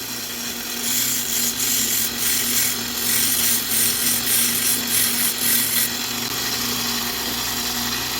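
Micarta knife scales for a Sixleaf SL-25 being contoured on a belt sander, a steady motor hum and belt whir with raspy grinding strokes as the piece is worked back and forth, close and loud.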